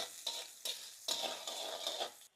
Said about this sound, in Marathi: तेल, जिरे, बारीक चॉप केलेली हिरवी मिरची, चॉप केलेला अद्रक, बारीक चॉप केलेला लसूण व्यवस्थित मिक्स करून घेऊ आपण।